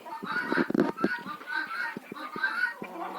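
Hens feeding on shell grit gathered from a nearby estuary cluck and murmur close by in a continuous, soft, overlapping chatter, with small pecking taps mixed in.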